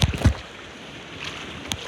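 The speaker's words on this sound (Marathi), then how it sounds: "समुद्र किनारा जवळ आहे ना आमचे म्हणून एवढा वारा" Strong wind near the seashore in rain over farm fields, a rough blustery rumble buffeting the microphone with a couple of heavy gusts at the start, close and loud with no talk.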